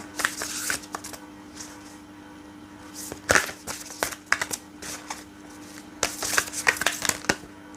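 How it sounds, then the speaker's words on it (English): Tarot cards are shuffled in several quick, crisp bursts of riffling and snapping, close by, over a steady low electrical hum. "shuffle it one more time"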